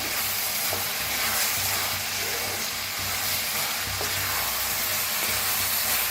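Roasted ridge gourd pieces with salt are stirred in a hot pan, giving a continuous dense sizzle with soft scraping strokes of a spoon, close and steady with no talking.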